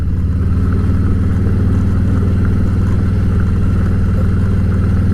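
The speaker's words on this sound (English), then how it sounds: "going up my treacherous gravel road" A vehicle climbs a rough country gravel road, its engine a loud, steady, throbbing drone close by, with no other sounds standing out.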